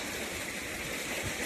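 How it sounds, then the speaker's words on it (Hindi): Steady rushing water pours from a farm tubewell pipe into irrigation channels across village fields, a continuous broadband splashing flow heard close and alone throughout. "ये देखो मेरा ट्यूबवेल, फाइनली आपको दिखाते हैं, पानी चल रहा है, खेतों में जा रहा है।"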